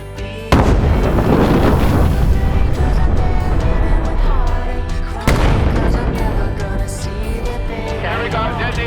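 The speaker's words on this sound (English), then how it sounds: "And we got detonation, we got a slab." A close, loud explosive charge detonates with a deep boom to trigger an avalanche on a snow slope, rumbling and echoing away, then a second heavy blast roughly five seconds later rolls out the same way.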